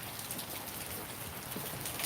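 Steady rain falling outside in Nan province, Thailand, a soft continuous patter and hiss with no voices, even and moderately close throughout.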